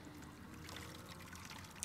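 Water poured in the Skyrim video game, a faint soft trickle and splash held steadily for about two seconds, quiet and without talk.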